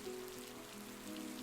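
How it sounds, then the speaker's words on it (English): Soft, steady rain patters against bakery windows in a continuous, faint, even wash of tapping with no voices. "rain fell in a soft, steady rhythm, tapping against the bakery windows like a lullaby"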